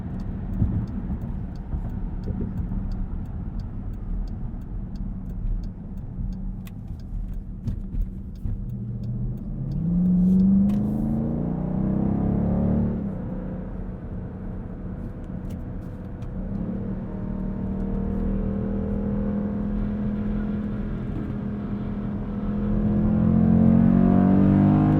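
2020 Dodge Durango SRT accelerating hard in track mode up a highway on-ramp, engine note rising through the gears in a deep, loud interior drone with revs climbing again toward the end.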